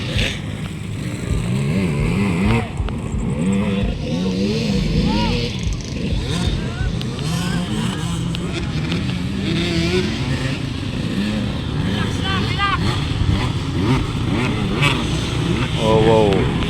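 Honda motorcycles race around a slippery, muddy track in a ladies' open event, their engines revving and whining up and down as the bikes pass, loud and continuous beneath excited commentary.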